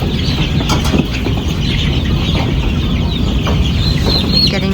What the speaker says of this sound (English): So here I am getting my chicks.